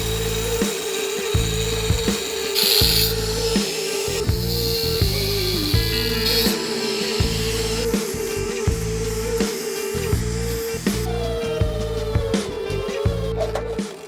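A power tool hums steadily while cutting out steel suspension mounting plates for a 4-link on an OBS Chevy truck, with a loud, continuous whine and repeated rhythmic chattering pulses throughout, no voices.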